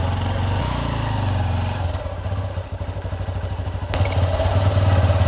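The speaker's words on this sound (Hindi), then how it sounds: "अभी बाइक स्टार्ट ही नहीं हो रहा, ठंडी इतना ज़्यादा था कुहासे की वजह से इंजन।" A motorcycle engine on a cold, foggy morning rumbles loudly up close, sputtering in rapid uneven pulses as it struggles, then surging back to a rougher steady drone.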